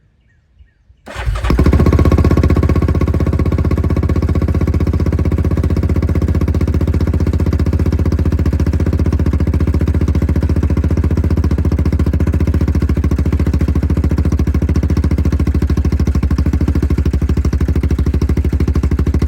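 A Yamaha Grizzly 660 ATV engine with a newly replaced carburetor cranks and catches after a brief silence, then settles into a loud, steady idle that runs on unbroken, close by, with no talk.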